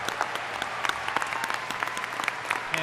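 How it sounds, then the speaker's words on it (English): A crowd applauds at the inauguration of Maine Governor Janet Mills, steady dense clapping at moderate volume, somewhat distant in a large hall, continuing without a break and with no speech. "Applause from Senate President Troy Jackson right there."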